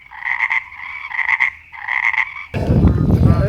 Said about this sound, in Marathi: तर बेडकांचा आवाज तुमच्या पाठीमागं माहीत असेल.